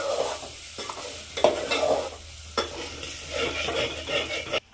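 A spoon stirs sabudana khichadi in a pan, scraping the stuck bottom with repeated rough rasps under a low sizzle, close and fairly loud.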